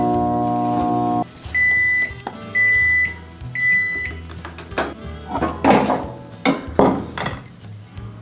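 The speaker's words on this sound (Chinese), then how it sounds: "再来把我们的微波炉给请出来" A microwave oven hums steadily for a moment and then gives three spaced electronic beeps. Its door clunks open, and dishes and utensils clatter nearby as a cheese-topped seafood dish is handled.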